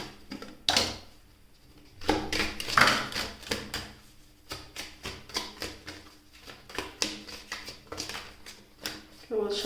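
Rapid papery riffling of tarot cards being shuffled, in short bursts, with a person talking over and between them.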